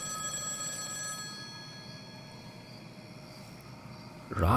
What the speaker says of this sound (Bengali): অগত্যা সেই সময় ফোন বাজল।